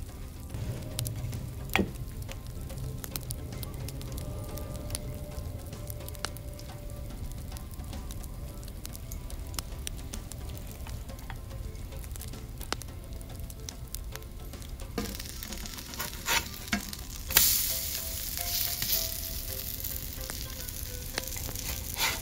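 Apple, banana and oatmeal pancake batter frying in a pan on high heat, a steady soft sizzle with occasional stirring clicks and scrapes from a wooden spoon, growing louder near the end, with no talk.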